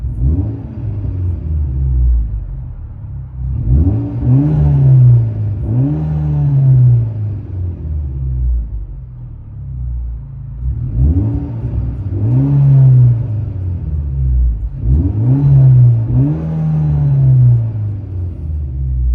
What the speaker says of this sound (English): Mitsubishi Evo Lancer, fully straight pipe, 3-inch, out the back one side